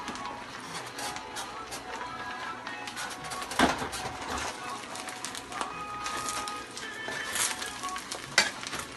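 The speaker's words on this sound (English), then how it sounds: "You have to keep stirring. That's why it's called fried rice. Keep stirring it." Cameroon fried rice stir-frying in a pan gives a steady close sizzle with scattered scraping stirs and a few louder knocks of the utensil.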